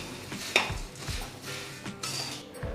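Puffed rice being stirred in a pan, light scraping and rustling with a few sharp clinks of a spoon against the pan, close and intermittent with no talk.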